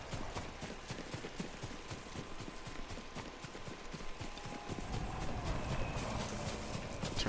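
Yuriko's horse in Ghost of Tsushima clip-clops in a brisk, regular trot, the hoofbeats clear at first and then blending into a rising rush of wind and ambient game sound.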